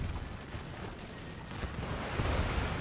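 Mortar barrage in Empire: Total War, a low, rolling rumble of distant booms and crackling gunfire, moderately faint, swelling slightly near the end.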